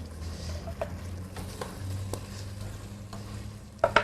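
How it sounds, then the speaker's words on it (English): Onion frying with spices in a pot for chicken dhal, a low steady sizzle with a few stirring scrapes and clinks, ending with two sharp utensil knocks. "I'm going to add in my onion."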